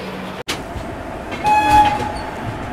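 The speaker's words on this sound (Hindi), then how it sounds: "कृष्णराजपुरम रेलवे स्टेशन से हम लोग हो रहे हैं डिपार्ट" The Chennai–Bengaluru Double Decker Express departing Krishnarajapuram railway station, heard as a loud, close rumble of rolling train wagons with a short horn-like tone partway through.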